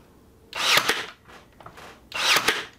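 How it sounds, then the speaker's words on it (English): A brad nailer drives nails into a pallet board, giving two loud, sharp, hissing bursts about a second and a half apart, with a faint rattle in between. "Oh, I love this brad nailer."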